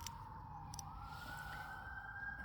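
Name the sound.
emergency vehicle sirens, fire trucks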